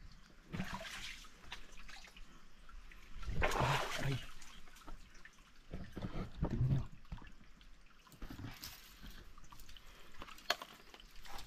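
A thin stream of water trickles and drips steadily, fairly quiet, with a few louder splashy bursts and faint voices or movement in the background.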